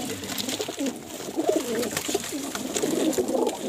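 Low, burbling coos come from a big breeder pigeon, repeated in rolling bursts over steady background noise, moderately close and with no talking.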